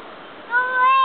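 A cat meows indoors, a drawn-out tonal call that swells in loudness partway through, close and clear with no talk over it.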